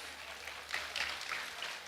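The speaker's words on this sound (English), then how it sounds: "another round of applause" Applause from a crowd at an NDC political rally, soft and distant, swelling partway through and holding as a steady patter of clapping.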